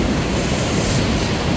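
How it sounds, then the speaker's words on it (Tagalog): Constant roar of heavy surf at Camogli on the Italian Riviera, a dense unbroken rush of crashing waves with wind buffeting the microphone. "Tahimik ngayon dito except sa malalakas na alon."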